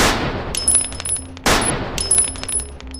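Two loud gunshots roughly a second and a half apart, each a sharp sudden blast trailing into a ringing, metallic decay, with no voices present.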